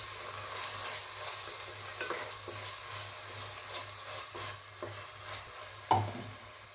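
Finely chopped tomatoes sauté in hot oil in a pan for egg biryani, a soft steady sizzle with occasional spatula scrapes and stirs, one sharper clack near the end, no talking.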